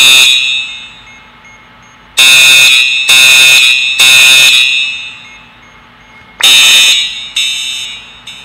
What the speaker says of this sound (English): You set the fire alarm.